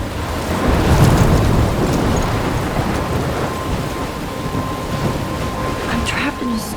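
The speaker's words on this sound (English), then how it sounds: "I'm trapped in a storm?" Thunderstorm in Life is Strange: dense, steady rain roaring close with low rumbling thunder, wind swirling through, continuous and loud throughout.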